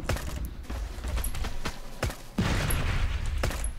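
Gunfire from a modded VSS Vintorez and a spread-shot weapon in Last Day on Earth: Survival, a rapid series of sharp suppressed shots in uneven bursts over a steady game background.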